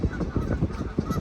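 Several geese or ducks honk in rapid, overlapping calls close by, a brief noisy burst of repeated squawks.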